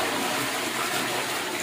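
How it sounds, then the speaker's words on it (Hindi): A newly installed P-trap commode toilet flushing, a loud, steady rush of water filling the whole short span without any talk. "अब मैं इसको फ्लश करके आप लोगों को दिखा देता हूँ"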